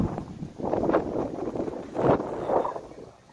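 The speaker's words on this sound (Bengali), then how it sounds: "সে বিশাল বাতাস ভাই বুঝলেন" Strong wind gusts over water beside a boat, near a riverside fishing spot, rumbling and buffeting the microphone in uneven surges that swell twice and then ease.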